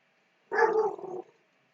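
One drawn-out dog howl-bark set off by a passing train, close and fairly loud, trailing off into a whine, alone in an otherwise quiet room.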